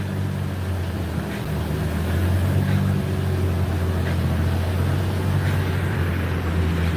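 A car engine runs steadily on an outdoor dyno, a loud continuous low drone that swells slightly partway through, with wind-like rush over it and no voices.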